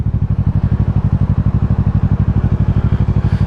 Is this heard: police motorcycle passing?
yes